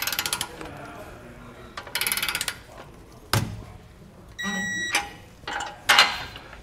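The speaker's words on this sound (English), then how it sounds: "tighten accordingly before coming back with your torque wrench" Torque wrench tightening the air spring bracket bolts during an Air Lift LoadLifter 5000 helper spring install on a 2020 vehicle, heard as several short, separate bursts of metallic ratcheting and clicking with pauses between them.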